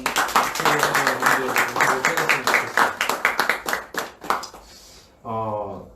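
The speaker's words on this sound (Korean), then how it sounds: "우리가 본 교회 성도님들 박수 한번 좀" A church congregation at a New Year's Eve service claps together in a dense, fairly rhythmic burst for about five seconds, tapering off before a voice starts speaking near the end.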